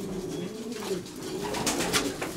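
Racing pigeons coo steadily at a loft, a continuous low, throaty burbling with overlapping calls at moderate distance and no speech.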